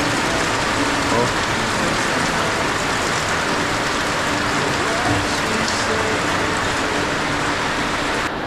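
Heavy rain pours down steadily, a dense, loud hiss of drops on surfaces filling the whole stretch without a break.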